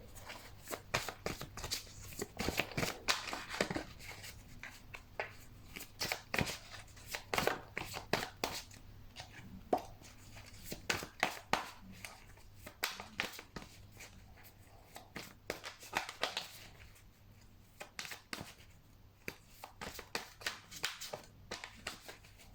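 Tarot cards being shuffled by hand in a quiet room, with repeated riffling and slapping bursts in an irregular rhythm and brief pauses between runs, close and moderately loud, no voices.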